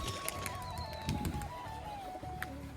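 A domestic pigeon coos softly in low murmuring phrases, close by and fairly quiet, mixed with other faint bird chirps and background noise, with no one talking.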